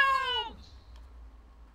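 Cat in the Minecraft video game gives a single clear, falling meow, close and fairly loud, then quiet.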